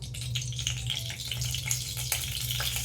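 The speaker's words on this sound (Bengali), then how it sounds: "আমি ভেজিটেবলগুলো সব ভেজে নেব" Cauliflower, peas, carrot, beans and capsicum fry in hot oil for a vegetable dal, giving a close, steady sizzle and crackle with light stirring and no talk.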